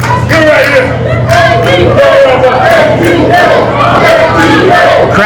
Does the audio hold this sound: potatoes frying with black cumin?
no